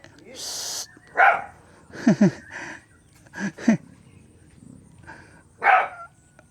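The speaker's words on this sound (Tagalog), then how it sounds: "Tumatahol na siya." On a small farm, a dog barks in several short separate bursts, fairly close and loud against quiet surroundings, while a person speaks between the barks.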